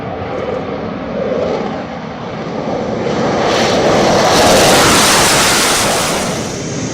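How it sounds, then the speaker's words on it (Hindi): Rafale, Sukhoi and Tejas fighter jets roar overhead during a joint India-France air force exercise, a loud broadband jet rumble that swells as an aircraft passes close and then holds steady. "आसमान में गूंजती राफेल, सुखोई और तेजस जैसे उन्नत लड़ाकू विमान के करतब"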